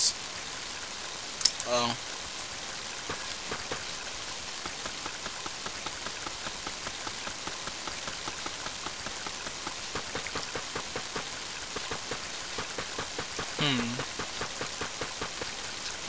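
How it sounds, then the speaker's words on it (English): Steady, dense rain patter in the video game Mother 3 continues throughout with a faint rhythmic ticking underneath, and a voice briefly exclaims once. "I like the raining sound effects to this."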